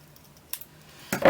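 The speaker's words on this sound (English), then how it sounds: "take your scissors, and just take a nice little sliver off each side" Scissors snip folded paper to trim slivers off each side, giving a couple of short, crisp cuts with a louder rustle and snip near the end.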